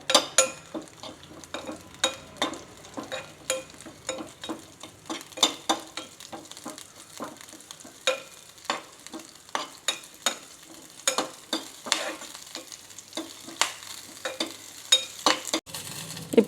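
Coconut and roasted gram are stirred and heated in a pan for coconut chutney, giving a steady run of sharp scraping and clinking strokes of the spoon against the pan over a faint sizzle, close and with no talk.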